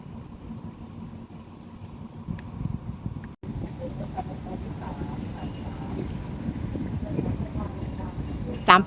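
Train number 383 rolls into platform 7, a low rumbling of wheels and carriages that builds steadily, ending with a brief high squeal, while people talk nearby.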